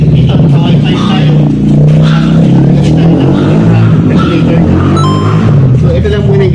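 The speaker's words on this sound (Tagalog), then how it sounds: "Tapos medyo maingay yung exhaust." A Honda City hatchback with an aftermarket double-tip exhaust revs loudly up close, a throaty, fluctuating engine roar with a voice talking over it.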